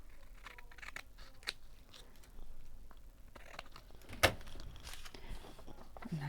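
Scissors snip through paper while trimming pieces for a collage, a few quiet close cuts and rustles of paper handling in a soft setting.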